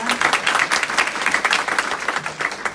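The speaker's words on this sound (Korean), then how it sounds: "정유아 사장님께 다시 한번 큰 박수 부탁드립니다" Audience applause at a seminar lecture, many hands clapping in a bright, continuous patter throughout, fairly loud and close.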